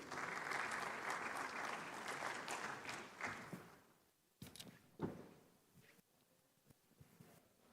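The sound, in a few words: audience applause for the moderator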